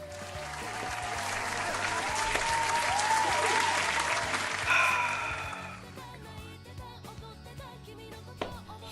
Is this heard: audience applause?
yes